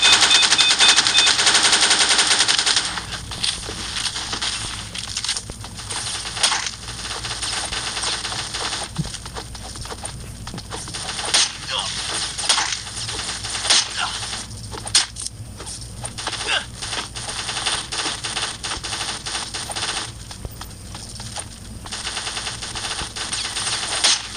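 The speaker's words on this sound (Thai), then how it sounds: "ใช้มีดไม่ได้ละใช้ปืนเลย" Gunfire in the mobile shooter Bullet Angel Xshot forms a long stretch of clattering, rapid shots and sharp ticks over a constant hissing game background, with bursts that come and go, and no clear speech.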